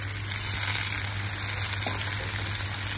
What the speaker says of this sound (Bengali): আমি এখন পরিমাণ মতন একটু পানি দিয়ে দেব।